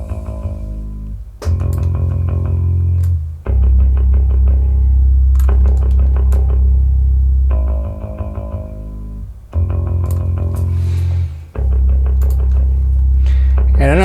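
MIDI guitar riffing with light distortion, loud chugging low notes in bursts of about two seconds separated by short gaps, sustained chords ringing between.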